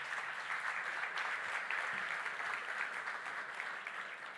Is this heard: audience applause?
yes